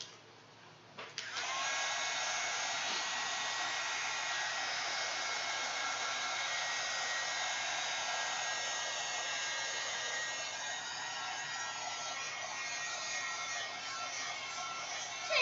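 Hair dryer blowing steadily to dry a mixed-media art journal page of rice paper and watercolor, switching on after a second and running loud and constant for the rest of the clip with no talking.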